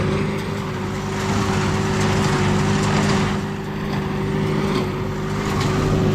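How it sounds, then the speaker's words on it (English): A Case fender tractor engine runs steadily while baling hay, with a loud, constant low drone and a sustained mid-pitched hum that swell slightly and hold close by throughout, no voices. "We got the case out because we needed a good solid fender tractor."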